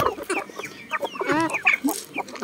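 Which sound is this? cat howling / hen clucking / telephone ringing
hen clucking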